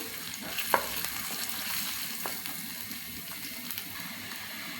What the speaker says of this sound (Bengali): এখন ভালোভাবে ব্রাউন কালার করে ভেজে নেব আমি